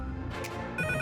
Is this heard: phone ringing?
yes